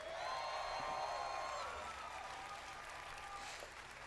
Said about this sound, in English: Another round of applause, please, for Todd Howard.